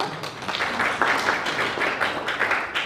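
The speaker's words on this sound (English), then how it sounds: "I think he deserves a clap" A university audience claps in a fairly loud, steady round of applause, a dense patter of many hands with no talk on top.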